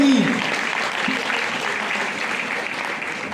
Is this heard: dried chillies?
no